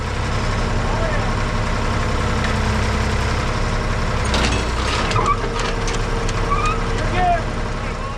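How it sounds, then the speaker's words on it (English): A backhoe idles on a work site with a steady, rumbling diesel drone. Faint knocks and scraping sounds come and go over it. Someone talks nearby. "Lucky for us, they have a backhoe on site."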